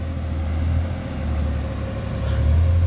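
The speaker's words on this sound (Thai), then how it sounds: "เครื่องยนต์มันสี่สูบนะครับสี่สูบของมันเร็วนะ" Four-cylinder diesel engine of a SANY SY200C excavator working in mud, a steady low droning rumble with a faint higher whine, constant and close with no talk over it.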